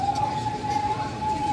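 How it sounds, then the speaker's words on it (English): An ambulance siren holds a steady wailing tone on a city street in the Philippines after dark, moderately loud with traffic rumble beneath it. "Okay, the ambulance took that person away."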